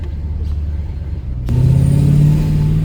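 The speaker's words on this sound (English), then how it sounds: "Nice acceleration." 1991 Jaguar XJS accelerating hard from a steady rumble into a loud, rising engine note that climbs for the last half of the clip, close by and with no talk.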